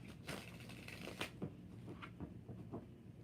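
Tarot cards being shuffled by hand, a quiet, steady riffling with soft slaps and taps repeating every half second or so, close and faint, with no voices.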